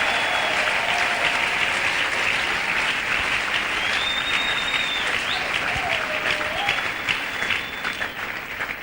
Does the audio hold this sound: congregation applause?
yes